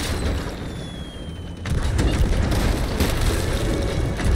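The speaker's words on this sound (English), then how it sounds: "Megalodon firework." A firework bursts in a video game, with a deep booming rush that swells partway through and holds as a loud, crackling roar.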